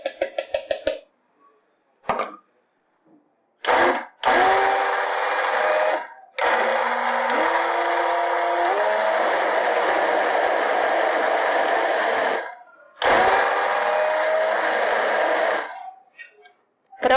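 A blender mixes homemade cake batter after baking powder is added, whirring loudly in several bursts with silent pauses between them, its pitch shifting as the batter thickens.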